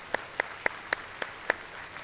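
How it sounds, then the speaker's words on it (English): A few sparse, evenly spaced claps from a small audience at a community foundation awards event honoring nonprofit partners and donors, sharp and separate rather than a full ovation, fairly faint. "So here's a roar of a round of applause to you"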